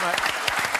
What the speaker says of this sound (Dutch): dat verdient een applaus, hoor.